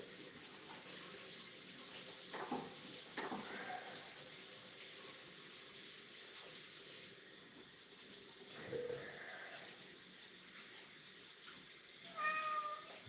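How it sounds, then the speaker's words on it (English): A cat meows a few times, short calls near the start and a clearer one at the end, over the steady hiss of running tap water filling a sink. "Yes, you're full of meows."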